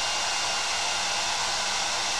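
A plugged-in hair dryer blows steadily at close range, aimed at a sensor to warm it, giving an even, loud broadband rush of air without pauses.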